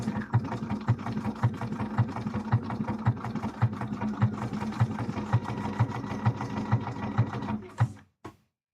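A home sewing machine stitches pieces of a Twilight Princess Link cosplay, close up, running a fast, steady mechanical chatter of needle strokes that ends abruptly near the finish.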